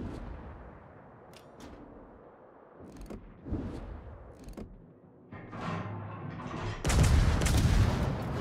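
Heavy naval gunfire from a Tier 10 cruiser's guns in World of Warships, several separate booming salvos at irregular intervals, ending in a louder, sustained roar of fire and blasts, no voices.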